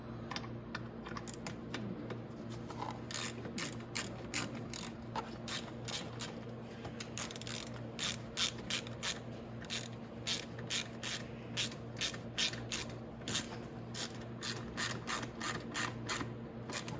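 A socket ratchet clicks rapidly and steadily in close, repeated strokes while tightening a number 10 bolt on the steering column of a Venom E-Madix 1300w electric ATV, with a faint hum beneath.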